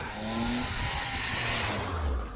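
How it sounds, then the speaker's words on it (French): A bus passes close by on a road, its broad engine rumble rising and sweeping through over a couple of seconds, with a low drone deepening toward the end. "Voilà, ça, c'est un bus."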